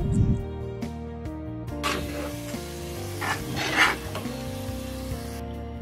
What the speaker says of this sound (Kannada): ನೋಡಿ ಚೆನ್ನಾಗಿ ಕುದಿ ಬರ್ತಿದೆ ಅಲ್ವಾ